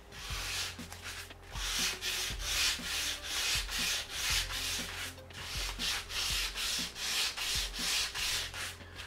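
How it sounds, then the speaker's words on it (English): Cheap foam is sanded by hand into a terrain hill, with rhythmic back-and-forth rasping strokes about every half second, close and steady, with no talking. "especially if we aren't sanding super cautiously"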